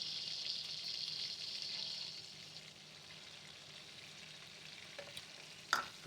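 Flour is stirred into a butter roux in a pan. A soft, steady sizzle fills the first two seconds, then sinks to a quieter simmer, with a couple of faint scraping clinks near the end.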